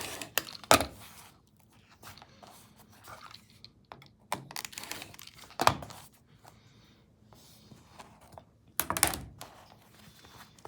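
Fabric and interfacing being cut straight along a ruler, heard as several close, sharp cutting snips and scrapes spread across a quiet background with small handling noises between them.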